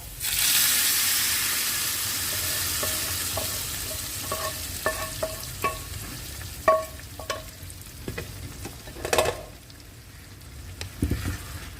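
Bottle gourd going into frying masala in a pan for lentil dal, giving a steady sizzle with scattered clinks and stirring clatters, close and moderately loud, with no talking.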